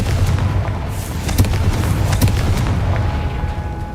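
Confringo blasting spell in Hogwarts Legacy, a series of booming blasts and pops over a dense, loud rumble of in-game action, with sharper hits recurring every second or so.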